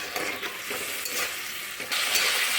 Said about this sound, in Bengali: অল্প জল দিয়ে মশলাগুলো কষে নেব।